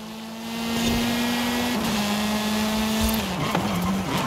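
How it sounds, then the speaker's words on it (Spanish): A race car drifting in Forza Horizon 5 on Xbox One X, a loud sustained engine drone that holds steady, dips in pitch, then wavers as the tires scrub and squeal. "Un poquito de drifting. Como veis, el coche se queda frenado."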